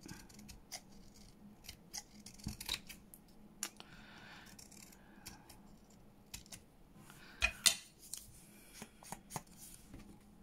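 Paper being trimmed with scissors while making botanical book page pockets and journal cards: quiet, close snips and crisp cutting strokes at an irregular pace, with light paper rustling and no talk.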